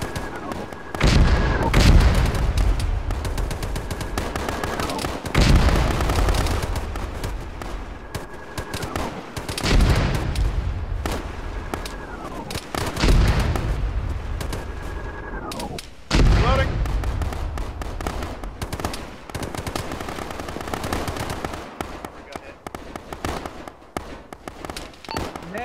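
Repeated heavy mortar blasts and scattered gunfire in the Arma military game, loud booming impacts every few seconds with rolling echoes and bursts of shots, with voices talking between the explosions.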